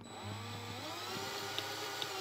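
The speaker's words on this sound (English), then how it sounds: "Just drilling holes in a Land Cruiser." A power drill boring holes into the body of a Toyota Land Cruiser during a ham radio install, giving a steady whining motor drone with a couple of sharp bites as the bit cuts, close and continuous.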